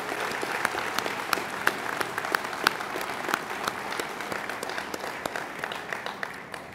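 Steady applause from an audience at a dedication ceremony for the NSLS-II synchrotron at Brookhaven National Lab, dense clapping sustained evenly throughout with a few sharper claps standing out near the listener.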